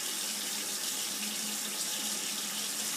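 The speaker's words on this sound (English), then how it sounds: "Time to leave the water running." Water runs continuously from a household tap into a sink, a steady, close hiss with no talking.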